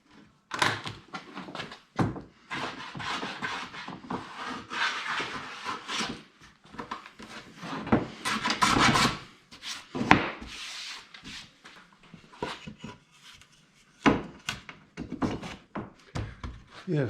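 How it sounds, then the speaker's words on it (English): A shoulder plane shaves a wooden tenon by hand for a breadboard end on a table top, giving repeated rasping strokes broken by woody knocks and thunks, fairly close with pauses between passes. "I plane the tenon down to its final thickness by hand using a shoulder plane"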